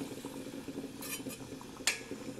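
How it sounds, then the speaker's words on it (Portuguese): Chopped onion goes into a not-yet-hot pan for cuscuz paulista and is stirred, giving a few metallic clinks of a utensil against the pan over a faint, low background. "Vou colocar a cebola."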